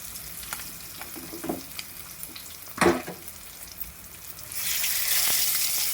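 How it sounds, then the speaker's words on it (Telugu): Village-style fish fry sizzles in a pan, a soft steady crackle with a few clinks and scrapes as the pieces are turned, then a louder hissing surge near the end, close by with no talk. "చూడండి ఫిష్ ఫ్రై ఎలా ఉడుకుతుందో"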